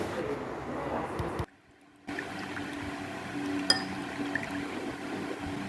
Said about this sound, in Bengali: একটুখানি ঘন ঘন করে কর্নফ্লাওয়ার গুলে নেব